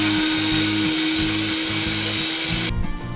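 A kitchen blender whirs loudly and continuously, pureeing tomatoes, garlic and chilies for salsa roja, with its motor pitch shifting slightly near the end as the blades catch.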